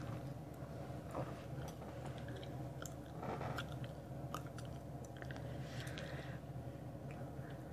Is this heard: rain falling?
no